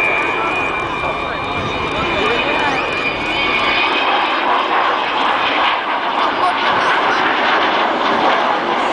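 Avro Vulcan XH558, a four-engine jet bomber, roars past at an airshow, a loud broad jet rumble with a rising howling whine as it comes back toward the crowd, while a commentator talks over the public address.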